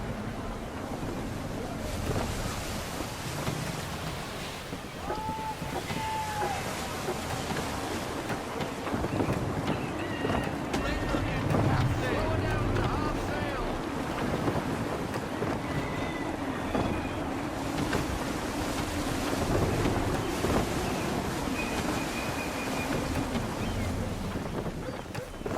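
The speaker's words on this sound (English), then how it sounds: "Gusty winds can be difficult to manage." Steady, gusty wind roars over open sea with waves and a creaking sailing ship in Assassin's Creed 3, continuous and loud throughout, with faint voices under the noise.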